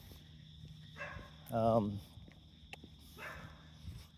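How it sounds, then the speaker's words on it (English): Dogs bark a few times at a distance during a morning outdoor walk, short muffled woofs under low background rumble, with a brief spoken exclamation nearby. "the dogs are up."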